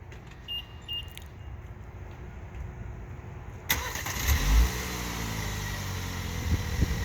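A 2022 Mini Countryman starting by remote start: quiet ambience with a couple of faint beeps, then the engine cranks and catches into a steady mid-pitched idle, close and continuous.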